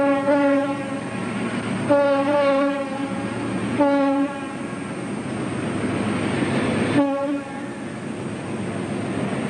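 A Chinese DF2 class diesel locomotive running in tandem with a KCR engine on the Kowloon-Canton Railway in Hong Kong sounds its horn in several loud, sustained blasts over a steady rumble as it passes pig unloading sidings.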